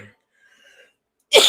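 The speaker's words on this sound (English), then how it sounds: "the cough coming back" After a quiet pause, a single sharp cough erupts near the end, close and loud.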